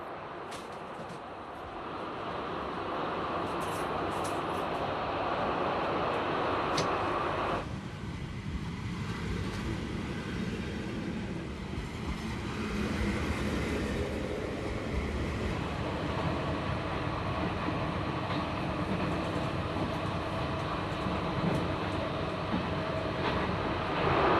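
A TEE express train runs past Brig after leaving the Simplon tunnel, heading into the Rhône valley, with a steady loud rumble and roar of wheels and carriages that goes on throughout, its tone shifting partway.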